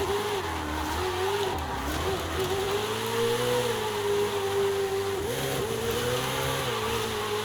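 Italian exotic car engine in Forza Horizon 5: a continuous loud engine note holding a high, steady pitch, with small dips and rises as revs shift, heard alone.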